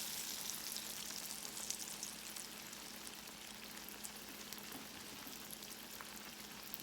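Slices of yellow summer squash frying in hot grease, giving a steady, faint sizzle and crackle that runs unbroken throughout with no voices.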